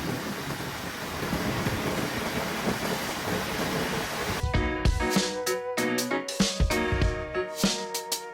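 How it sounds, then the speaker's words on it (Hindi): Steady rain and wind rush around a KTM Duke 250 Gen 3 motorcycle riding on a highway, a dense continuous hiss that gives way after a few seconds to sharper, more broken sounds with some tonal ringing. "बारिश थोड़ी तेज़ हो गई है"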